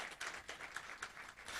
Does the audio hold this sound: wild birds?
no